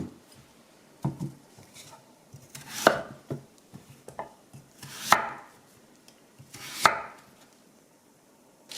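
A knife chops Korean radish into thick 7 cm pieces for kimchi, striking sharply on a cutting board several times in irregular strokes, with a few louder thuds among softer taps.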